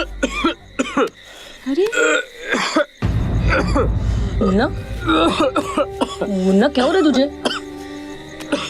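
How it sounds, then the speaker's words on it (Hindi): A young man coughs and clears his throat in several harsh bursts early on, up close, with other people talking around and after the coughs. "3-4 दिनों से खांस रहा है।"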